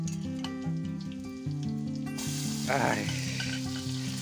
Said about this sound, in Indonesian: Tumis cumi.